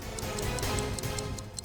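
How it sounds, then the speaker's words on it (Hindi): A clock-like timer of a hidden bomb ticks steadily at roughly five ticks per second, faint and crisp under a loud, dense rumble from a moving car. "घड़ी की आवाज?"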